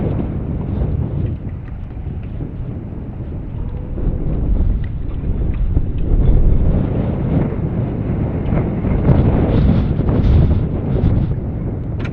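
Wind gusts buffet across a lake on a fishing tour, a loud, continuous rushing roar that swells and eases in uneven waves, heavy low rumble dominating with no voices.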